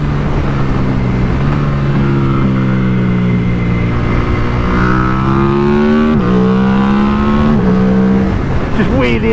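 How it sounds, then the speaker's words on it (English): A 2024 KTM RC 8C sport motorcycle engine revs hard and high, its pitch climbing and dropping through gear changes, loud and close throughout. "and it revs hard as well"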